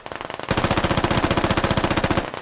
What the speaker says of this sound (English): James Simpson gets shot in the side.